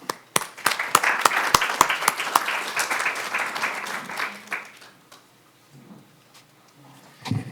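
Audience at a cancer survivorship seminar applauding to welcome the speaker, sharp claps over a dense round of clapping that fades out, followed by a short quiet stretch and a few faint sounds.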